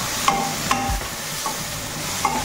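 Spices such as coriander and cumin are stirred through bitter gourd curry (kalara tarkari) in a pan. The spoon scrapes with a few sharp clinks over a soft, steady sizzle, with no talking.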